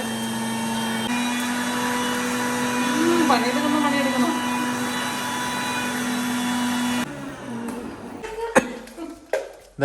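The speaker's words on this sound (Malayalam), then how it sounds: "ഈ മിക്സി ഇച്ചിരി പാടാ" An electric mixer grinder whirs loudly and steadily as it grinds green chilli, tomato and garlic, then cuts off after about seven seconds, followed by a few clattering knocks.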